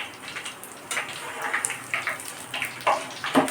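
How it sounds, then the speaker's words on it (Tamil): Boondi fry in oil for kara boondi with a continuous crackling sizzle, broken by soft bursts of bubbling as the batch is stirred, close and moderately loud. "நம்ம இப்படி கிண்டும் போதே அந்த சலசலன்னு சத்தங்க."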